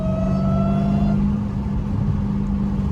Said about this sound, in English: That Whine do sound crazy though